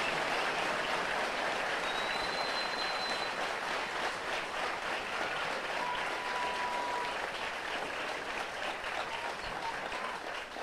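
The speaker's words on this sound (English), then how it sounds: "Please join me in a round of applause for our retiree and his family." An audience at a military basic training graduation ceremony applauds for a retiree, steady, dense clapping that fills the whole stretch at even volume.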